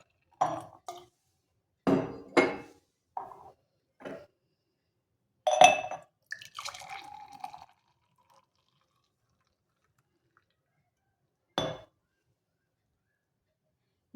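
Water splashes in short pours into a blended tomato juice mixture in a glass vessel. Brief drips and glassy clinks are separated by long silent gaps, close and quiet, with no voices.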